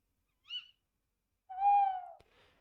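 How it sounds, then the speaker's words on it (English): A two-part owl hoot sound effect: a brief high hoot, a pause, then a longer, louder, lower hoot that slides slightly down, ending with a faint trailing note, heard alone against silence. "such as an owl that's hooting, that might have multiple parts to the sound"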